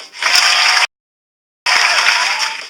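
Loud, dense clapping from a crowd, cut by a sudden silence of nearly a second before the applause resumes just as strongly.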